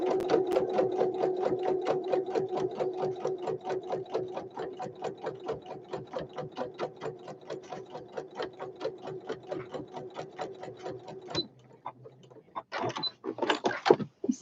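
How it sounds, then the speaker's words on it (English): Sewing machine running a long steady seam across a toiletry bag, a close rhythmic mechanical chatter that stops near the end, followed by a few clicks and handling noises. "I'm going to sew that then all the way across"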